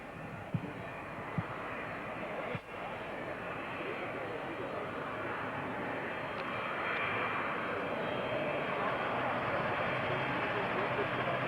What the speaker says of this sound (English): We'll shortly see the landing of this aircraft.